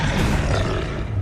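A troll in the video game Hogwarts Legacy lets out a loud, rough, continuous roar, close and dense, filling the whole short moment without a pause.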